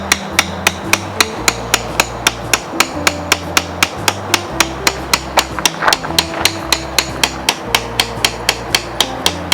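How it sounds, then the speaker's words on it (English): Large steel tent stakes are driven into the ground at a campsite with a rapid, even series of sharp metallic hammer blows, close and loud, with faint background noise between strikes. "we brought some better large steel ones that Joe is going to hammer in"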